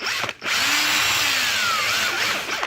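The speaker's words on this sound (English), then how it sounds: "now that I found my drill bit, I'm just going to pop a couple holes in here" A power drill whirs steadily at close range, boring holes through fabric, its motor pitch sliding gradually downward, with a brief dip near the start.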